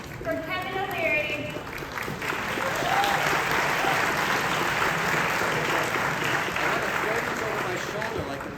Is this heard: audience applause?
yes